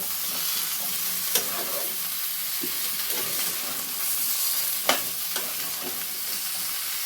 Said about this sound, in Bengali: আলু আর শিম একসাথে ভালো করে নাড়াচাড়া করে নেব।